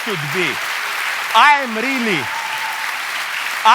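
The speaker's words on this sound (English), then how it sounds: "stop applauding" An audience applauds steadily after a Slavoj Žižek talk at the Bristol Festival of Ideas, a continuous wash of clapping while someone speaks over it.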